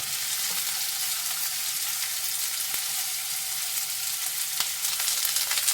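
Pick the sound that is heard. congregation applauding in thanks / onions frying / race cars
onions frying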